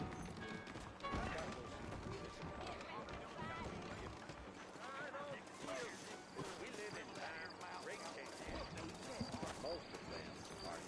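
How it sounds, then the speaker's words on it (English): Saddled horses in the Western video game Red Dead Redemption, set in New Austin, clop along steadily under continuous conversation, their hooves soft and low in the mix. "I got the horses saddled up and ready out front."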